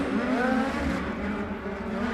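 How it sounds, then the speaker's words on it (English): Sprint cars race at the Chili Bowl Nationals, their engines a loud, sustained, rising and falling roar that stays close and continuous throughout. "Something sounds different about the timber of the engines at the moment out there."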